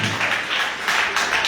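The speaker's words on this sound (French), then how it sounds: "On va écouter un applaudissement." Scattered audience applause, a steady wash of hand claps filling the short moment at moderate loudness with no talking over it.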